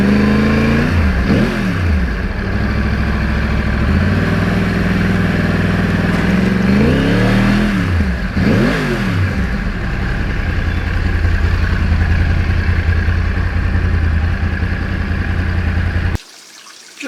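A 2009 Yamaha R1 crossplane sport bike is ridden at steady speed, its loud engine drone running continuously with two rising-and-falling rev sweeps before cutting off near the end.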